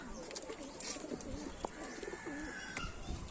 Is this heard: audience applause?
no